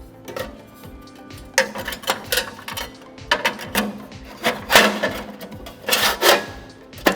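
Plain metal sieve plate pressed and slid into place inside a KCI 6D multi-purpose chaff cutter, close scraping, rubbing and clanking metal contacts in irregular bursts, fairly loud, with no talking.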